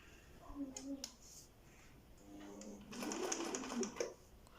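A Husqvarna Viking 3020 sewing machine stitches in two short bursts of rapid mechanical clatter, close and moderately loud, with a quiet gap between them and faint clicks of the mechanism.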